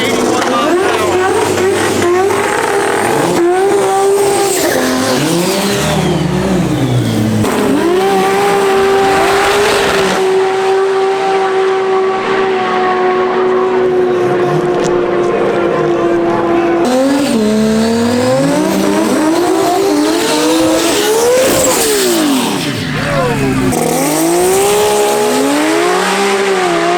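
High-speed race cars at the TX2K drag racing event, engines roaring loudly and continuously with rising and falling pitch sweeps, tire squeal mixed in, under a voice talking over the noise.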